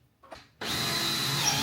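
A power drill starts abruptly after a soft handling noise, then whirs loudly and steadily at close range during a fireplace renovation, with no speech.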